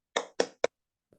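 Children give a quick classroom encouragement clap, three sharp claps in fast succession followed by a faint, softer one.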